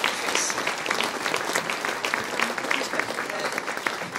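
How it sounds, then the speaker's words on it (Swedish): Steady applause from an audience at the opening ceremony of Fårfesten 2018, many hands clapping together at an even density throughout. "Nu tycker jag de är värda en stor applåd."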